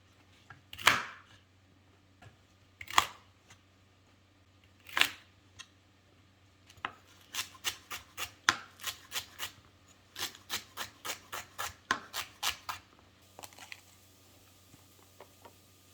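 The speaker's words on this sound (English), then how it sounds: "So I'm going to let that go while I chop some celery." A knife chops celery on a cutting board, first in three slow, separated strikes, then in a fast, even run of crisp, close taps, with no talk.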